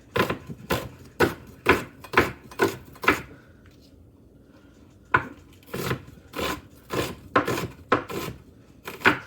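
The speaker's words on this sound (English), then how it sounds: "So I got to get this chopped up." Knife chopping vegetables on a board for a hearty three-bean and veggie soup, a run of sharp, close, rhythmic chops, a short pause, then another steady burst of cuts, with no talking.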